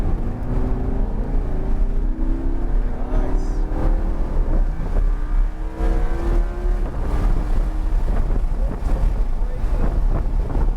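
A Lamborghini accelerates on a race track at Homestead Miami, its engine note rising in repeated climbing sweeps under heavy wind buffeting, with people talking over it.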